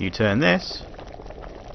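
Liquid bubbles at a boil while brewing in the video game Kingdom Come Deliverance, a soft continuous simmer heard under a man's brief speech at the start.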